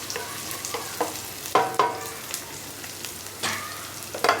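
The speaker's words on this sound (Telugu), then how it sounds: "ఉల్లిపాయలు వేగుతున్నాయి." Onions frying in a pan for kalai kora, a constant close sizzle broken by several sharp stirring scrapes and clinks of a spoon against the pan, with no talking.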